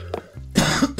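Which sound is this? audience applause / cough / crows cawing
cough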